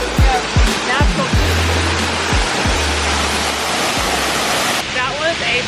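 A waterfall in Lombok, Indonesia pours with a broad, steady rushing roar that fills the whole stretch, loud and close, with repeated low thumps and people talking briefly over it.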